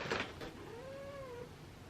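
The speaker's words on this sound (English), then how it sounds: "This cat is going to piss me off, Lo." A house cat lets out a single drawn-out meow, close and fairly clear, with a rising and falling pitch that holds for about a second before it fades.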